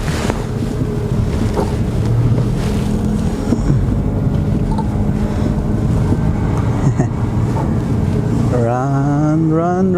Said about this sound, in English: The car runs good.